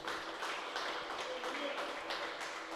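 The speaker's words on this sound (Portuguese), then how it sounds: "Vamos aplaudir a Jesus por causa disso?" A church congregation applauds in a steady, even wash of clapping that stays faint and distant throughout.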